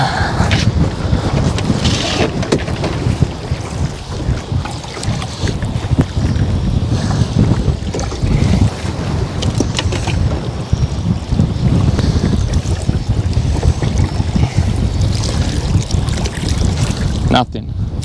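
Strong, gusting wind buffets the microphone on a small fishing boat at sea, a steady loud roar with water slapping against the hull throughout.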